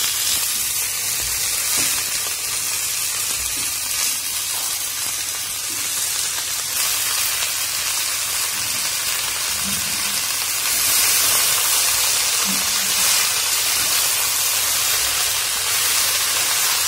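Chopped pea leaf greens hit a pan of browned onions in oil and sizzle loudly and continuously, a dense close hiss with no voices over it.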